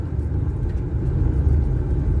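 A car rolls along a freshly paved asphalt stretch of a coastal highway, a steady low rumble of tyres and engine heard from inside the vehicle, smooth and continuous.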